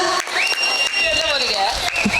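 An audience at a Tamil debate stage show bursts into cheering and applause, a dense crowd roar with a voice rising over it.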